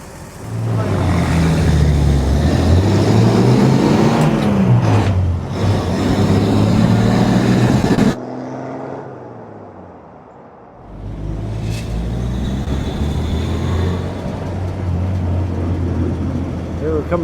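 A 1952 Chevrolet pickup truck drives back in, its engine rumbling loudly with rising revs, then briefly quieting before the motor returns strong and steady; people talk at points.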